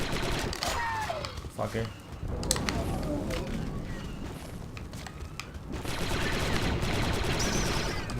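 Sustained blaster and rifle fire from a Star Wars: Republic Commando battle against Geonosians, dense rapid bursts and booms rolling continuously, with a voice cursing over the shooting.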